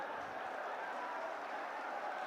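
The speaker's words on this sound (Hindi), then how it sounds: "जोरदार तालियां बजाएं आप सभी" Crowd applause at a political rally welcoming Rahul Gandhi, a steady, dense wash of many hands clapping at a distance, faint and continuous without pauses.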